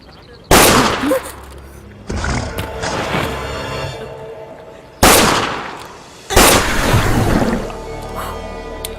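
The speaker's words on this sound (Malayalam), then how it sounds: "ഇങ്ങനെ വെടിവെച്ചാ മതിയാ?" Several loud gunshots from a gun, each a sharp blast followed by a rumbling tail, spaced a couple of seconds apart at close range.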